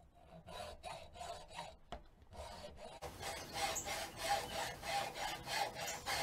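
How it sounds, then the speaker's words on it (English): A hacksaw cuts off the part of a raised garden bed stake that would go into the ground, with steady rhythmic rasping strokes that become louder and more continuous partway through. "For hard surface installation, you can use a hacksaw to cut off the part of the stake that inserts into the ground."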